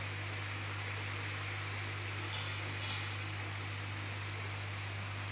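A pump draws water through a homemade pool skimmer built from 110 mm pipe, making a faint, steady hum and rushing water. A couple of brief gurgles come through where it sucks in a little air.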